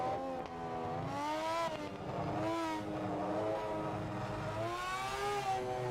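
A race car engine drones in Project Motor Racing, a steady rising and falling harmonic whine through gear changes, sustained and fairly close throughout.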